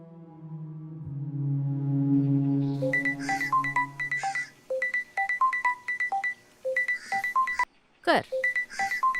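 A mobile phone ringtone from a missed call starts as sustained electronic tones, then turns into a rapid, repeating melodic beep pattern with short gaps, fairly clear and close.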